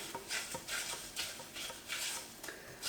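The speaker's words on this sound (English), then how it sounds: "we'll start giving that a bit of a mix round just to get those sugars melting" A spoon stirs dark brown and caster sugar in a pan, giving soft rhythmic scraping strokes with light clinks, close and fairly quiet, no talking.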